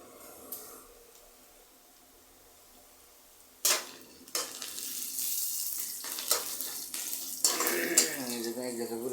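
Onions fry and scorch in a hot pan: a quiet start, then sudden loud bursts of crackling sizzle that carry on unevenly, with a voice briefly heard near the end.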